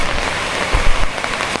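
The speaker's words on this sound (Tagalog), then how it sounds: "Yan ang hirap pag umuulan" Steady rain drums on surfaces at a creekside campsite in Tarlac, a dense close hiss with a few heavier drops and no voices.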